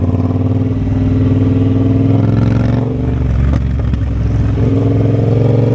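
Motorcycles on the Distinguished Gentlemen's Ride in Edinburgh rumble loudly and close by, a steady mid-pitched engine drone with a passing rev and some clatter.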